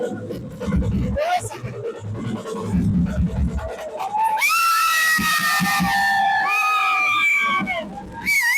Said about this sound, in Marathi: हा जल्लोष बघताय, हा जल्लोष आहे विकासाचा